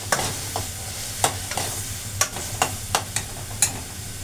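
Tomatoes sauté in a pan under a soft steady sizzle, while a spatula scrapes and taps the pan in quick, irregular strokes, about eight or nine crisp hits in a few seconds; no talking.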